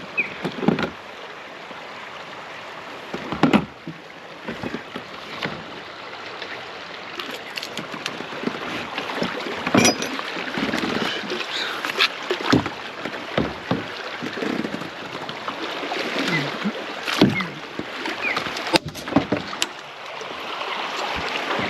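A kayak on a river, with irregular paddle splashes and water sloshing over a constant rush of flowing water and wind. No one speaks.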